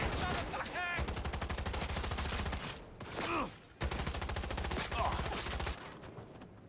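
Rapid automatic gunfire from a Cyberpunk 2077 firefight, sustained loud bursts with brief pauses between volleys and a few sharper single shots, mixed over game sounds and occasional voices.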